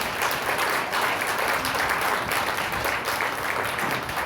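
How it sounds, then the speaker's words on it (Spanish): A church congregation applauds in dense, continuous clapping that stays loud and even throughout, filling the room with no pauses. "Denle un fuerte aplauso al Señor"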